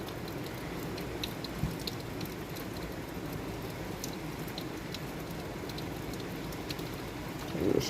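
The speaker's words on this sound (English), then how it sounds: "we are finally getting some rain" Rain falling on a Florida vegetable garden with carrots and tomatoes, a soft steady patter with scattered drips and a wind gust near the end, no voices.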